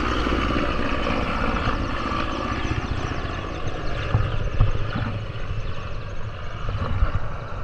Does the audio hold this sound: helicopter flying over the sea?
yes